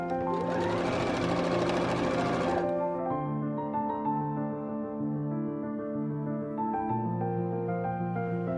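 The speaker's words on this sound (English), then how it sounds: "I am going to sew them using a 3/8 inch seam allowance." A sewing machine stitches a side seam on a red dress with a 3/8 inch seam allowance, a loud rapid whir for about two and a half seconds, then stops; quieter tonal background follows.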